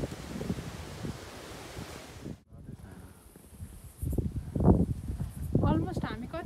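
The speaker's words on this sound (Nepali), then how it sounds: "अहिले त हावा चल्न थाल्यो" Gusty wind roars at Pinnacle Lookout in the Grampians National Park. It is a steady broadband rush for about two seconds, then drops away and gives way to people talking close by over lighter wind noise.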